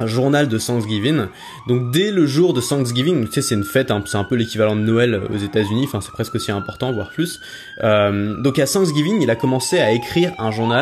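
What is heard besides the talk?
emergency vehicle siren in New York street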